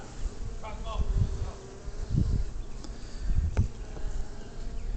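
Honeybees buzz around a swarming top bar hive, a soft continuous hum with a few louder passes as individual bees fly close, set against faint background noise.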